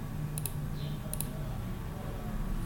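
Mouse clicks during Corel Draw editing come as two quick pairs of sharp, faint ticks close to the microphone over a low steady hum, with no one speaking.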